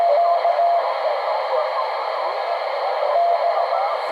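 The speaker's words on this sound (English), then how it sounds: "Somebody sending Morse code there by the sounds of it." Morse code comes through on a Ranger RCI-2970 amateur radio tuned to USB: a few faint, short keyed tones sit under constant receiver static and hiss.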